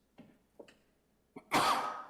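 Someone sneezes during a town board meeting in a meeting room: two soft catches of breath, then a sharp, loud, fairly close sneeze burst that trails off.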